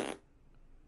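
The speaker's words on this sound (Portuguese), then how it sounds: "Alexa, eu disse um peido" An Alexa smart speaker plays a fart sound effect, a single loud, brief raspy blast that cuts off abruptly into quiet room tone.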